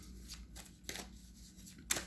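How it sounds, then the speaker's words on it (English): Tarot cards being shuffled in a few quick riffling bursts, soft papery flutters near and close at low volume, with no talk. "I'm going to shuffle the cards"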